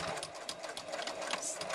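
Sewing machine stitching a wallet, running steadily and close up for a short continuous burst with a fast, even rhythm.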